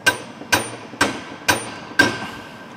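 A hammer drives a new brake disc onto a camper with five sharp metallic strikes at an even rhythm about half a second apart, each ringing briefly, loud and close with no talk.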